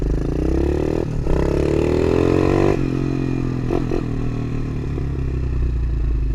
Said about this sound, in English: I got him this DB24 that I'm riding right now.